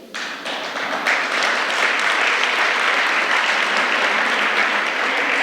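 An audience at a roundtable dialogue event breaks into sustained applause, a dense, even wash of many clapping hands that swells quickly and holds steady without talk.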